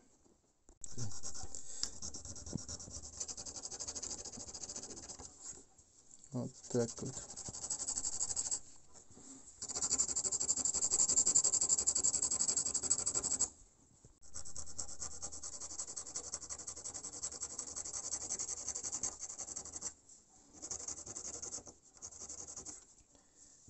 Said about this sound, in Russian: Так, а сейчас я буду чистить монету уже вот такую. Она более такая грязная.